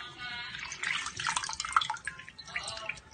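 Banana blossom being washed by hand in water, with splashing and trickling that stays steady and close for the whole stretch.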